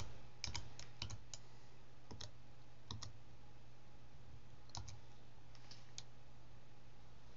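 Keyboard shortcut presses on a computer while editing photos in Lightroom 5: a handful of sharp, quiet clicks spaced irregularly over steady low background hum, with no talking.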